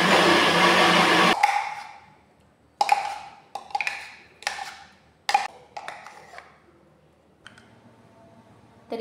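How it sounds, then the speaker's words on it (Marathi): A mixer grinder blending almonds runs loudly for about a second and then stops, followed by a series of sharp clicks and taps from the jar and lid. "या मिक्सर जारमध्ये टाकून घ्यायचं।"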